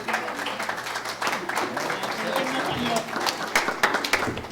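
Audience applause at a university economics graduation seminar, lively clapping from a modest crowd with scattered sharper claps, heard alongside voices talking over it.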